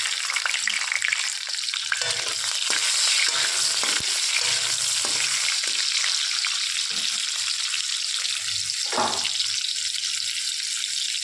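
Chopped tomatoes fry in a pan for an old-style Bengali home dish, a steady broadband sizzle throughout with occasional stirring scrapes and a brief watery splash near the end, no talking.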